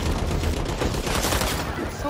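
Fireworks in the Spider-Man 2 video game: a dense, continuous rattle of crackling bursts, loud and close, packed tightly together over the whole stretch.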